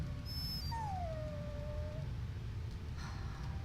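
A dog in the video game Dragon Age: Origins gives a single drawn-out whimpering whine that slides down in pitch, up close over a steady low background hum, with no talk.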